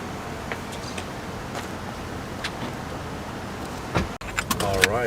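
The motorized falcon wing doors of a Tesla Model X open with a soft whirring hum, quiet at first, then building toward the end with a few clicks and a brief mechanical whine nearby.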